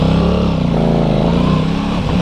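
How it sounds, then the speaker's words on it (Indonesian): An Aprilia SR-GT 200 engine revs hard and loud up close, its throaty, lumpy exhaust note rising and holding steady for a couple of seconds with no talking. "Bunyi mesinnya enak banget, parah."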